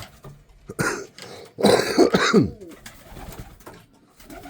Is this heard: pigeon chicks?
yes